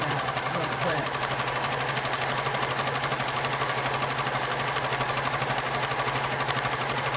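A sewing machine stitching and gathering fabric for a ruffled quilt, with a steady, fast mechanical hum and rapid needle chatter running continuously up close.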